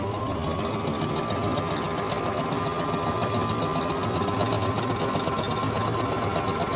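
A Brother GS3750WT sewing machine runs a zigzag stitch, its needle chattering in a fast, steady, continuous rhythm at close range with no voices.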